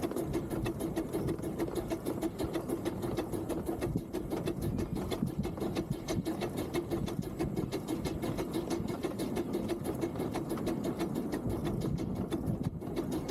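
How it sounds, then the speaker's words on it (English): A Fairbourne Railway narrow-gauge train rolls into the Mawddach Estuary terminal, heard from on board as a steady clattering rumble with rapid rhythmic ticking of wheels on rail joints, continuous and close. "The train pulls into the Mawddach Estuary terminal."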